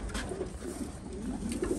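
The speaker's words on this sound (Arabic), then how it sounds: "شوف هاي الطيره تيتي توجعت عندي" A pigeon coos in repeated soft, low, throaty notes against a steady background hiss, close by, with no talk.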